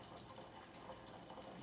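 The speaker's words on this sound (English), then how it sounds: "I like to make sure that there aren't any impurities in my water, so I'm going to strain it as it goes in." Water poured through a strainer into an ice ball mold, a steady soft trickle and splash running continuously, faint and close.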